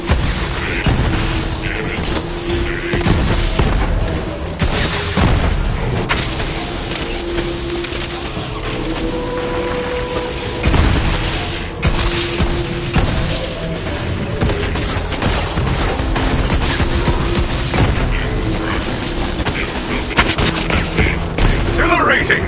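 Rocket explosions in Borderlands 3: booming blasts and rapid gunfire burst repeatedly through a loud, busy game mix, with a voice talking over the action.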